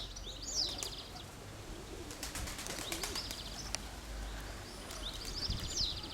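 Domestic pigeons in a loft coo softly in a few short, repeated phrases, with one early call, a cluster in the middle and another near the end, over faint background noise.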